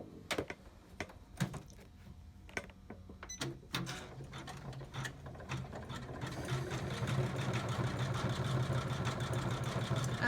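An embroidery machine stitching a decorative pattern starts with sparse, sharp clicks and taps, then settles into a steady, dense whirring rhythm of rapid needle strikes that grows louder and continues alone.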